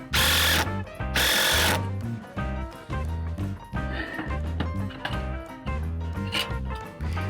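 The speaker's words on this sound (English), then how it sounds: "You see me driving a couple of screws in here." A power drill drives screws into the header of a horse barn's sliding door. It makes two loud bursts of whirring, then quieter mechanical knocks and clatter follow.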